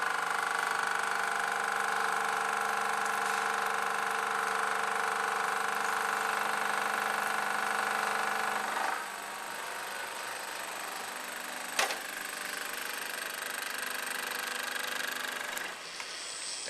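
A milling machine cutting the last pass on a metal block while squaring it gives a steady, close mechanical whine with a tonal hum, which drops to a lower running drone partway through, broken by a sharp click.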